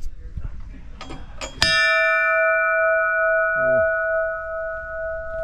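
A bell on a vintage fire engine in a fire truck museum, rung by pulling a cord: a few soft taps, then one loud clang that rings on with a long, steady sustained tone, after brief talk nearby.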